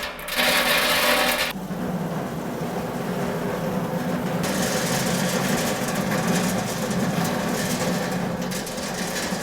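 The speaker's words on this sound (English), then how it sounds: "And this machine breaks them into smaller particles." A machine crushing roasted cocoa beans into smaller particles at a Ugandan processing facility produces a steady, dense mechanical grinding rumble with a brief harsher burst at the start, continuous throughout.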